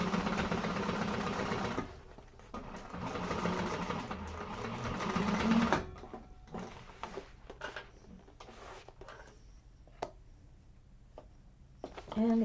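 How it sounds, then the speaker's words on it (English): A sewing machine runs a second row of security stitching through super thick vinyl, giving a steady mechanical whir for about two seconds and again from four to six seconds. Quieter stop-start stitching and handling noises follow, with a person talking in between. "I'm going to do my second row of security stitching"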